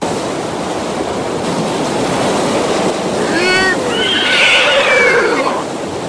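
Horses whinny several times at a distance, rising and falling calls carried over steady waves and wind noise from a boat at sea off the African coast.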